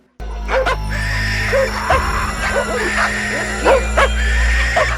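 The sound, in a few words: dog barking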